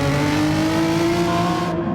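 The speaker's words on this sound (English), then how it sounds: "Murkoff burning up his rear tyres and coming in" Race car in a racing video game with its rear tyres burning up, giving a steady, loud engine drone with a sustained high tone and no voices over it.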